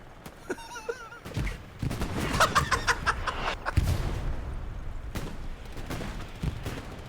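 Artillery shells explode in the WWII shooter game Hell Let Loose as a string of sharp booms and crackling blasts, some close and heavy, others distant, with no one talking.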